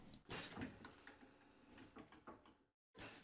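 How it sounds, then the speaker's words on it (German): Bus door opening in the OMSI 2 bus simulator game: a clear mechanical sliding-door movement with pneumatic hiss bursts at the start and end, rumbling and clunking through the middle, then a brief silence before another hiss. "Und die erste Tür öffnet sich."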